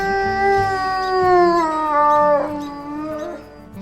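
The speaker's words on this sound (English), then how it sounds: "And let me play his howl." A long wolf howl from the WolfQuest video game, a sustained tonal cry that holds steady then bends slowly downward with a brief break, loud and close over a low game background.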